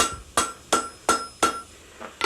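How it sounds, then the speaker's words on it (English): A blacksmith hammers hot metal into a small ring, five ringing strikes at an even pace, close and loud, with a sixth lighter blow at the end. "You just keep hammering that out"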